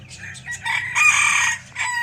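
Decoy roosters and bantam chickens crow in a long, strained call with clucking around it, close and fairly loud outdoors on a cold, overcast day.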